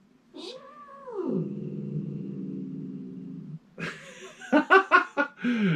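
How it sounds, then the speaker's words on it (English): A cat vocalizes up close with a drawn-out, wavering growl-like moan, followed by a burst of short, sharp chirpy sounds. "She growls like that and plays, but she will never bite."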